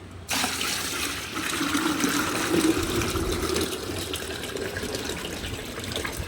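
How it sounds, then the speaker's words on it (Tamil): Water poured from a large pot into a 20-litre bucket while mixing an oil-cake fertilizer solution, a steady, rushing gush of liquid splashing continuously at close range for several seconds, with no speech. "இந்த குடத்து தண்ணியை தூக்கி ஊற்றிக்கலாம்"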